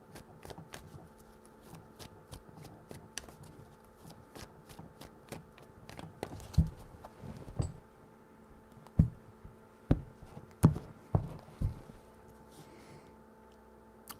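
Tarot cards being shuffled by hand in a quiet room, crisp riffling bursts and sharp taps close to the mic, sparse at first, then grouped into quicker clusters with short pauses, no voice.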